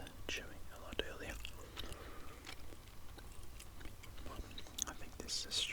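Close, soft wet chewing of gum in an ASMR recording, with occasional clicks and smacks under a quiet whispering voice.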